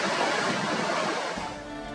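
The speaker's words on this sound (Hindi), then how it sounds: "दरियाए पंचकूड़ा की शोर करती लहरें" Loud, steady roar of rushing water from the Panjkora river in the Kumrat valley, Pakistan, a dense continuous wash of waves and spray that holds close and unbroken, with no voices.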